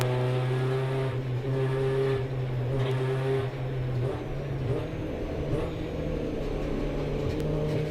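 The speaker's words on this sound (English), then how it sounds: "I love how crisp these engines sound" Several 750 Motor Club hot hatch race cars at Cadwell Park droning together, their engines steady and crisp with rising and falling revs, loud and close from within the field, no voices.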